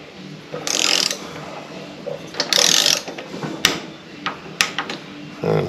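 Ratchet wrench tightening bolts in a skip-two pattern on an 8 hp snow blower engine, giving bursts of rapid clicking separated by single sharp knocks and short pauses, close and fairly loud, with no talking.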